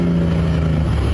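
A custom semi truck's diesel engine rumbles loud and close in a short, steady, throaty burst, with no voices over it.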